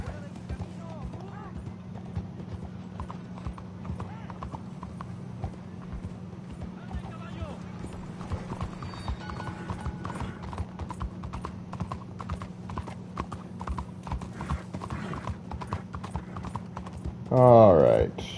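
Horse hooves clip-clop steadily while riding in Red Dead Redemption 2, a continuous rhythmic patter under a low game hum, with a brief louder burst near the end and speech around it.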